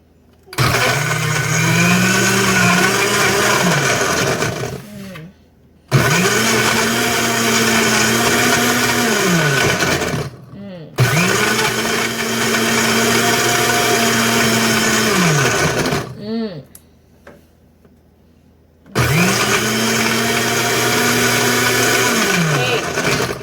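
A loud blender chopping watermelon whirs in four long bursts of several seconds each, separated by short pauses, its motor pitch rising as each pulse spins up.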